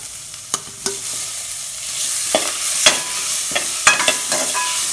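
Tomatoes fry with a steady, close sizzle in a pan while making goat leg soup, broken by repeated scraping clicks and knocks of a stirring spoon against the pan.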